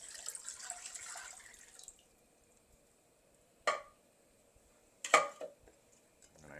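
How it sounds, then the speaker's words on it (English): Water poured into a wok on a stove, a soft stream for the first two seconds followed by two brief, sharper splashes after a pause, close and moderately quiet with no talking. "I'm going to put 4 cups of water in to start."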